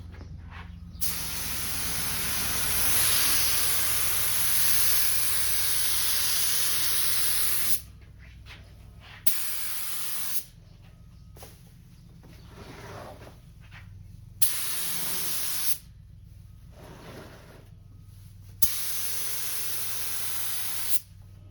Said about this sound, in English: It's spraying okay.